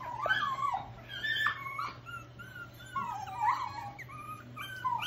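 Three-week-old toy schnauzer puppies whimper and yip in a series of high, wavering cries, close by over a faint low hum.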